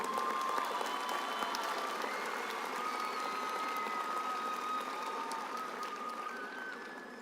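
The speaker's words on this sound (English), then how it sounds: "Let's give them a round of applause." Steady applause from a large audience at a high school commencement ceremony, continuous clapping that gradually fades over several seconds, with a faint tone running beneath it.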